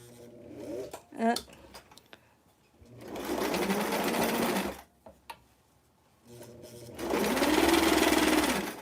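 A sewing machine stitches a Barbie doll dress in two long, steady whirring bursts, close and fairly loud, with short pauses and brief handling clicks between them where someone talks.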